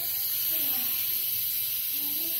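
Steady hiss of steam venting from an Instant Pot as pressure is released after cooking loaded potato soup, continuous and fairly loud throughout.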